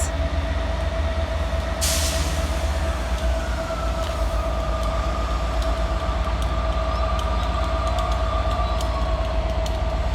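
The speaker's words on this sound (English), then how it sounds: "Departing over on the far side is 158812 and 158799, working the 1625 East Midlands Railway service from Norwich through to Liverpool Lime Street." Two coupled East Midlands Railway class 158 diesel units pull out of Stockport station on the far platform, a loud steady engine rumble with a sustained tonal whine, a brief hiss burst early on and faint wheel squeal.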